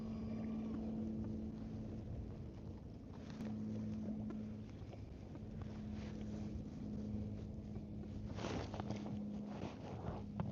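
Outboard motor of a small fishing boat running steadily on the water, a constant low drone with a steady hum throughout, mixed with wind rumble against the microphone.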